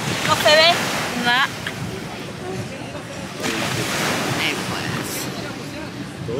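Sea waves at Isla Mujeres wash in as a steady, broad roar mixed with wind buffeting the microphone, while birds chirp briefly early on and people talk faintly in Spanish nearby.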